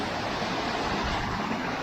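A river in the Alps rushes steadily nearby, a continuous broadband roar of flowing water with no voices.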